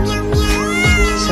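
A cat meows loudly and close, with drawn-out, wavering cries running together over about a second.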